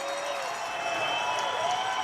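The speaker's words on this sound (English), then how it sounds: "Crowd on its feet" Hockey crowd at a junior playoff Game 7 cheering and applauding in a steady, dense roar that swells slightly toward the end, with a broadcaster's voice faintly mixed in.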